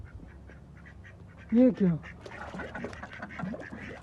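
Ducks quack loudly at close range in a short burst of two calls, with someone speaking Hindi around them outdoors by a fish pond.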